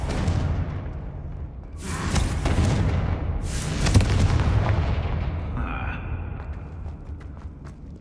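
Confringo explosive spell blast in a Harry Potter video game, heavy booming detonations, one after another with long rumbling tails, loud and close.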